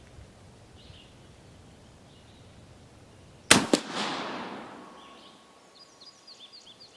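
A single sharp gunshot from a Wänzl Extra Corps carbine firing a reloaded round outdoors at a range, loud and close, with a long fading echo after long quiet.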